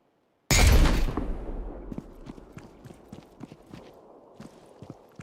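Improvised grenade exploding in the game Deadside, a loud sudden blast followed by a long rumbling tail scattered with crackling debris and sharp pops as it fades.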